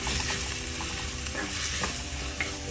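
Crushed onion and curry leaves sautéed and stirred in hot oil in a pan for a black pomfret fish curry, with steady sizzling and occasional scraping stirs throughout.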